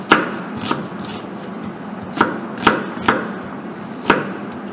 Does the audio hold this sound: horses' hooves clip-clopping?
no